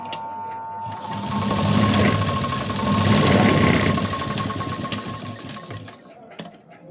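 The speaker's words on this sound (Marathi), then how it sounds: "डबल शिलाई मी इथे देणार आहे" A sewing machine runs a double line of stitching along blouse tucks, a close, fast, rattling whir that builds up, holds, then slows and stops near the end.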